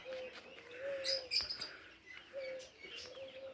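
Birds calling in the sky over open country, a few clear chirping and cooing calls at moderate distance, repeated at intervals over faint background noise.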